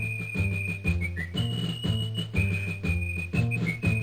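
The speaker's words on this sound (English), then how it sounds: "they're whistling while they work at this point" Ants whistle a bright, steady tune in the King's Quest V video game, the clear high melody riding over a bouncy, rhythmic game soundtrack, loud and close with no talking.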